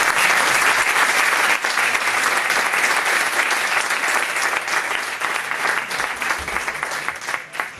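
Sustained audience applause fills a room after a Spanish-language talk on mind maps, a steady dense clatter of many clapping hands that holds at full strength for several seconds and eases slightly near the end.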